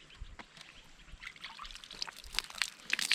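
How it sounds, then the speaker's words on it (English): Water trickles and drips from a cloth being wrung dry by hand in an African village, with soft splashes building toward the end. "Wring it dry."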